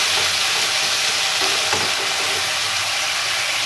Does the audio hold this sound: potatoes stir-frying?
yes